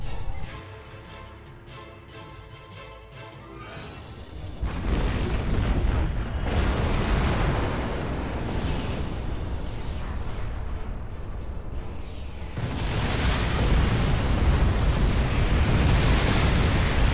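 Dominion fleet weapons fire and explosions in a space video game: a quiet hum gives way to a sustained roar of booming blasts and energy fire, growing louder again in the final seconds.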